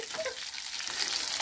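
Two sausages bubbling in a pot of boiling water in a home kitchen, a steady close hiss and fizz with crackling texture running through the brief moment, no voices.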